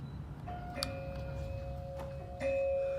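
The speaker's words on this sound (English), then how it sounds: "The old doorbell, the original doorbell." An old original doorbell with a ceramic button rings in a house, producing faint tonal chimes with a sustained ringing tone over a low background hum.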